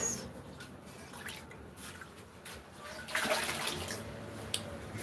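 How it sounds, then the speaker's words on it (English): A pot is rinsed out with water, giving soft running and sloshing sounds with a few drips that swell into a louder splash toward the end, with faint speech in the background. "So I'll rinse out the pot."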